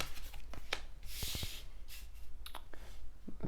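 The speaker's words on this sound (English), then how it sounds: "let's do some shuffling for this upcoming Tuesday" Tarot cards are shuffled in quick papery riffles and soft rubbing strokes, close and fairly quiet, with a brief louder burst partway through.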